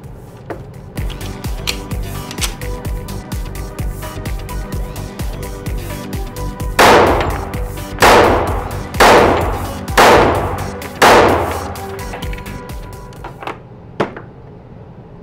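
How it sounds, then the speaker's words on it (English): A Springfield Range Officer 1911 pistol fires five loud, sharp shots at an outdoor range, spaced about a second apart, after a stretch of quieter handling noise and background rumble. "I'm about to put 5 more rounds through the range officer"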